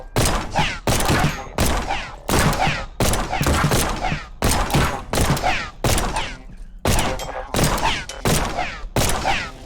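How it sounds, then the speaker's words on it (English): A turret in the first-person game The Pit: Infinity fires loud bursts in quick clusters, each burst a dense volley broken by short gaps, repeating steadily and close. "I think we found some kind of turret or something."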